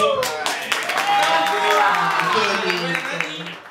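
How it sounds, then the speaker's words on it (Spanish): An audience claps and cheers on a Spanish-language entertainment show, a dense burst of applause mixed with voices and shouting through the whole stretch. "Quiero que le den un fuerte aplauso."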